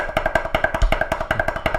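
Drum rolls played with a loud first note and a much softer following tap: a fast, even stream of crisp sticking strokes that stays close and fairly loud, with no talk over it.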